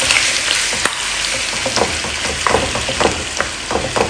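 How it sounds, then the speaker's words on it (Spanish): Chicken sizzles and fries in sesame oil in a pan, a loud steady crackle with scattered pops and occasional stirring clicks. "Y vamos a cocinar nuestro pollo."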